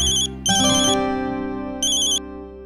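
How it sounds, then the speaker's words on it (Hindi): A phone ringtone plays loud and close, a bright electronic melody in repeating bursts that signals an incoming call from the office, with no talking over it. "एक मिनट, ऑफिस से फोन।"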